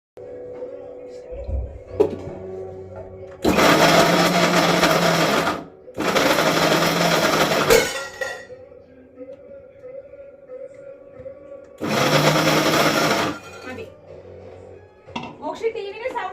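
Mixer grinder grinding peeled jackfruit seeds in a home kitchen, three loud close bursts of whirring motor separated by pauses with quieter background sounds between.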